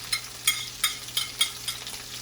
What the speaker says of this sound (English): Now let this saute some more.